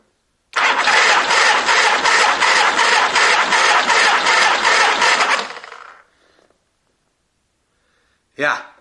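Engine of a 1975 Harley-Davidson XL cranking over on the starter during a rear-cylinder compression test, a steady rhythmic chugging for about five seconds that winds down, then a brief burst at the end.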